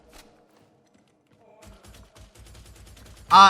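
Gunner enemy firing in the video game Darktide, a rapid rhythmic burst of gunshots building from about the middle, with a loud sharp blast at the very end.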